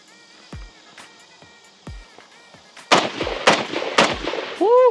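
Several loud, sharp gunshots from a New Century AP53 ring out outdoors, starting as spaced single shots and then coming faster in a close group, each with a short echoing tail.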